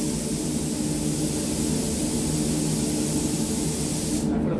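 A spray gun at 2 bar lays down base coat paint in a close, continuous hissing blast, cut off sharply just before the end.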